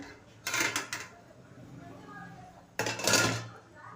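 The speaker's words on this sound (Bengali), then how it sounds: "বন্ধুরা এবার আমি খুলে দেখবো ঢাকনাটা পিঠেটা হয়েছে কিনা" A lid comes off a steaming pot of pitha in two bursts of metallic clatter and scraping, separated by a quieter pause with faint background noise.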